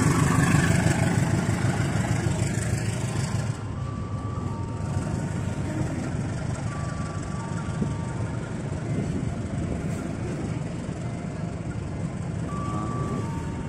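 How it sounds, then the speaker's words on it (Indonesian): A seven-car freight train carrying motorcycles rolls along track 5 through Kampung Bandan station, Jakarta, steady rail rumble and wheel noise with occasional faint tonal beeps in the background. "Kereta barang kargo melintas jalur 5 stasiun Kampung Bandan."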